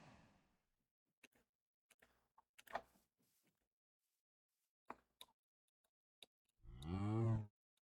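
A single cow moo from the farming video game Cozy Meadows, loud and close near the end, after scattered faint clicks and taps with no talking.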